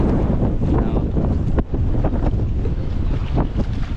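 Strong wind buffets the microphone on a boat trip off Camiguin Island, a loud, continuous roaring rush with gusty surges and no voices.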